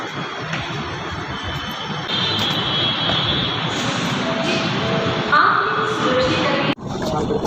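A Pune metro train arriving at the crowded PCMC station on a Sunday, making a steady loud rumbling whine that swells slightly partway through, with a short tone and a sudden break near the end over busy platform noise.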